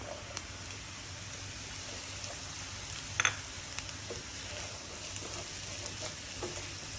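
Mushrooms fry in a pan for vegetarian bolognese, a steady soft sizzle with occasional light clicks of stirring, close and fairly quiet.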